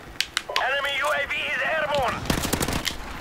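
Submachine gun fire in a Call of Duty 4 Remastered team deathmatch, short rapid bursts at the start and a dense rattling burst near the end, around a stretch of talk.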